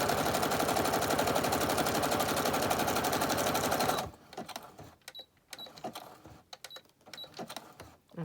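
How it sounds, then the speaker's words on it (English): A sewing machine runs a zigzag stitch at a steady fast rattle for about four seconds, then stops and is followed by scattered small clicks and handling sounds. "just want to do a zigzag stitch"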